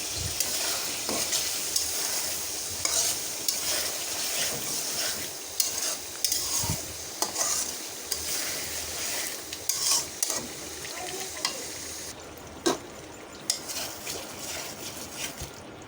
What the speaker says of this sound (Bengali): কলিজা ঘিলাটা একেবারে কষে আসছে